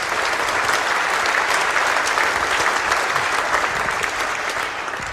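An audience gives a steady, dense round of applause for a group of volunteer ambassadors, many hands clapping together at an even level throughout with no talk over it.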